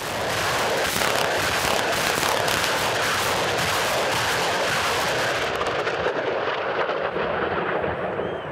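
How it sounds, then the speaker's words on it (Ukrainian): A BM-21 Grad multiple rocket launcher fires on a training range, producing a continuous roaring barrage of rapid rocket launches that crackle and rumble loudly for several seconds before fading into a lingering roar. "Це БМ-21 «Град»."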